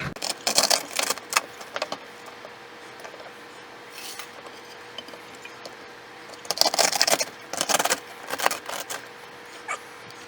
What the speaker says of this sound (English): we're just going to line all these celeries up as best as possible. And we're going to cut them.